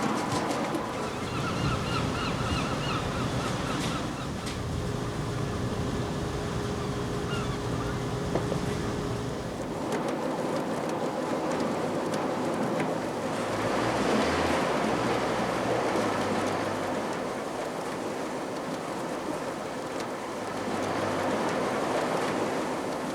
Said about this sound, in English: fish are thrashing about in there